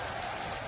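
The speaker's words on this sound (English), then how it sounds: "As the cheer goes for the ward kill." A large arena crowd at a League of Legends grand finals esports event cheers and applauds steadily, a dense, even roar of noise holding at moderate level throughout the brief moment.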